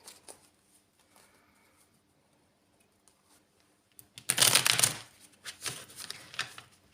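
A Harmony Tarot deck being shuffled: quiet handling and light taps at first, then a loud, close riffle of cards, followed by a few softer shuffling bursts.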